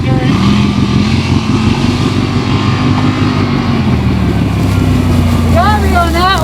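Yamaha Rmax1000 and Textron Wildcat UTVs launching side by side in a drag race, a loud continuous engine roar with rising revs, with voices talking and shouting over it.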